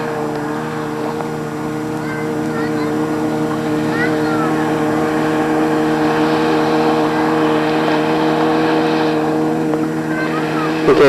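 A motorboat engine drones steadily, growing slightly louder as it nears, with faint background voices and a few birdlike chirps, at a campsite in Maine.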